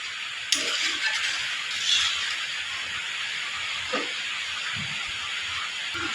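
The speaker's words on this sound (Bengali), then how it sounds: "এখন আমি এই যে পরিমাণ মতো আমি তরকারির ঝোলটা দিয়ে দিলাম।" Curry broth poured over fried spices and vegetables in a hot pan, giving a steady, loud steaming hiss throughout with a few faint clinks and knocks, and no talking.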